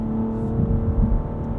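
A 2020 Cadillac CT5-V engine hums steadily with a rising, throaty rev in the middle, close and fairly loud, without any talking.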